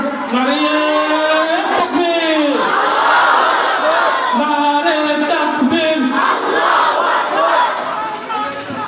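A large outdoor crowd at a religious gathering on a high school field answers a takbir call with loud chanted shouts in unison, repeated in rhythmic waves between a leader's amplified calls.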